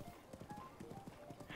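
Horse hooves clip-clop across a bridge in the video game The Legend of Zelda: Breath of the Wild, a quick, even run of quiet hoofbeats with a faint hint of voice beneath.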